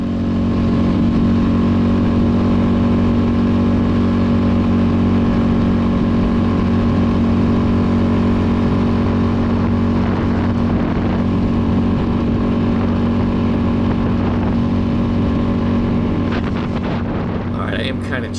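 2004 Honda XR650L motorcycle engine running at high elevation and needing rejetting for the thin air, a loud, steady close-up thump that stays constant, with some wind noise over the microphone.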